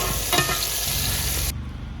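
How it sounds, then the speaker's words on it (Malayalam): Chicken pieces deep-frying in coconut oil for chicken pickle hiss in a loud, dense sizzle that cuts sharply quieter partway through, with no talk. "പിന്നെ മൊത്തം കൂടെ ഒന്നിച്ചുകൊണ്ട് വറക്കാം."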